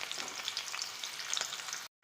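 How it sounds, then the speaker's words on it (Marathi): Onion frying with mustard seeds and cumin in a pan for homemade noodles, a dense, bright close sizzle with small crackles and stirring scrapes, heard alone and cutting off abruptly near the end. "कांदा छान लाल होईपर्यंत परतून घ्यायचा।"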